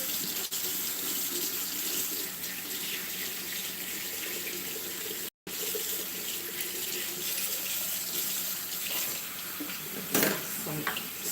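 Steady tap water runs into a kitchen sink while hand mixer beaters are washed, a continuous close splashing hiss with a brief cut partway through.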